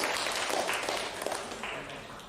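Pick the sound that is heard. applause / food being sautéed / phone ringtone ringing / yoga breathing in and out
applause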